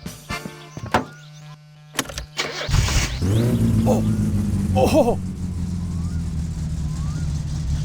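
Several clicks and thunks come before the car engine in the video game My Summer Car cranks, catches and settles into a steady mid-pitched idle. A voice gives a brief surprised exclamation.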